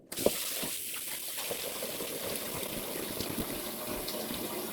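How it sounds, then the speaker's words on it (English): Tap water runs steadily into a bowl in a kitchen sink during sourdough einkorn bread making, a continuous gushing wash with no talk. "I'm going to run this bowl into the sink real fast."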